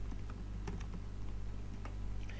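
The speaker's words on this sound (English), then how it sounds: "And let me just type some instructions." Quick, close keystrokes clatter on a computer keyboard in irregular bursts while instructions are typed into online examination software, over a low background hum.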